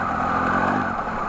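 A 2018 Triumph Tiger motorcycle engine pulls hard under acceleration, a loud steady droning growl with a rising tone, heard up close from the rider's position and mixed with wind rush.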